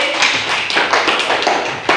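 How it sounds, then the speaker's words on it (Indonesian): Students in a classroom clap for a group that has just presented, a brisk burst of many hands applauding close by, fairly loud and without speech. "tepuk tangan untuk kelompoknya Nesti"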